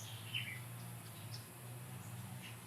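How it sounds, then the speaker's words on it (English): Faint birds chirp now and then, a few brief tweets over a low, steady outdoor hum; no one speaks. "to listen to the cicadas and the birds and what have you"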